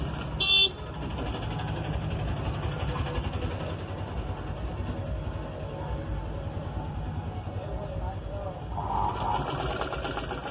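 A sewing machine stitches a blouse with a continuous motor whir that runs steadily for about ten seconds, with a brief sharp click near the start and a voice faintly present in the background.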